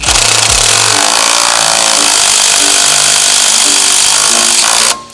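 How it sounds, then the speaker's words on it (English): A motorcycle chain breaker pushes a pin out of the chain on a Yamaha R6 in a loud, steady grinding roar that runs almost unbroken for about five seconds and then cuts off. "we're gonna break the chain by pushing one of these pins out using the chain breaker"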